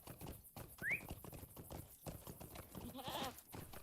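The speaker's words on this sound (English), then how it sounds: "my goat's named Sage. It's a very strong goat" A goat mount trots along in the Lord of the Rings Online game, giving quiet, rapid clip-clopping hoofbeats with a brief chirp and a soft animal bleat near the end, all faint and somewhat muffled.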